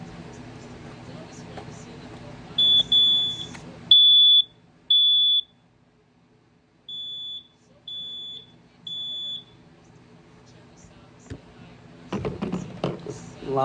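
A System Sensor SYS-HS horn strobe set to position 2 gives a series of short, loud electronic beeps, in groups of three with a pause between groups, over faint background hum.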